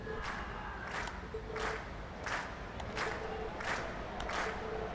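A crowd in Trails of Cold Steel chants for an encore, rhythmic rising bursts of cheering roughly every two-thirds of a second over a dense, sustained audience roar.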